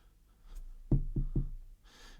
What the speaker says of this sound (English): Cannot knock too loud, otherwise your ears will fly away with the microphone on the same table.